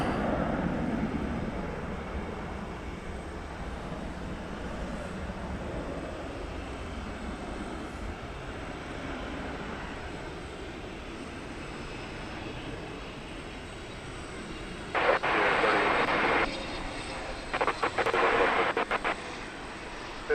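An airplane coming in low to land at DFW Airport produces a steady distant jet rumble and whine, with a couple of short bursts of radio chatter near the end.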